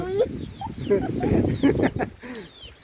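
Chickens being fed on a farm in the evening cluck and chirp in quick, overlapping bursts close by, moderately quiet.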